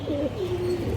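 Pigeons in a Bengali loft of high-flyer and colored giribaz breeds give a steady, close, low cooing that keeps going for about a second with no voices over it.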